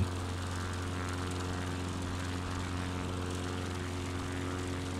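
Steady propeller-plane engine drone in Microsoft Flight Simulator during an Alaska bush flight, constant and loud, with a sustained buzzing hum and no talk over it.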